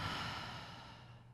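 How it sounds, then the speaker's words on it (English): A long, full exhale during yoga breathing in a vinyasa flow class, one soft, steady breathy rush that fades gradually across the whole moment, close and alone with no talking. "Big inhale. Full exhale."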